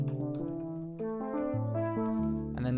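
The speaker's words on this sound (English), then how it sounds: "It's a digital synthesizer, and it can make all different sounds." A digital synthesizer on its Simple Jam preset plays a sequence of layered, sustained chords that shift every half second or so, rich and close, with no talking.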